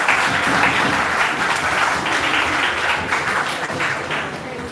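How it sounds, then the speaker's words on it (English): A conference audience gives the chair a round of applause at a national meeting on personalized medicine: loud, sustained crowd clapping that runs evenly for nearly five seconds with no talk over it. "Let's once again give a big round of applause to respected chair."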